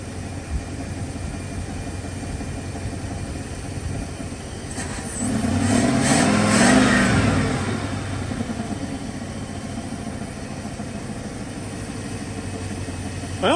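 A 1979 Chrysler Cordoba engine runs at a steady idle, rises into a short rev around the middle that swells louder, then settles back to a rough, even idle. It is close up with no talking.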